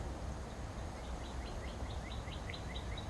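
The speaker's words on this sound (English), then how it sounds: "hear the birds sing" Birds chirp in short, repeated bright notes over a steady rushing background, fairly faint and a little distant, in the countryside.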